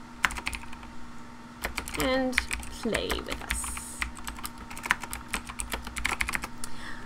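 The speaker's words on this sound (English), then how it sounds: "sorry about all the typing, everybody." Rapid clicking of computer keys, close and irregular, with a person speaking briefly over the typing.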